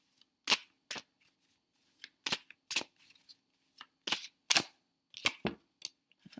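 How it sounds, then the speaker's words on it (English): Tarot cards are pulled from a deck, a dozen or so crisp close snaps and flicks in an irregular rhythm, each short and sharp against a quiet room. "Let's pull a few more cards here."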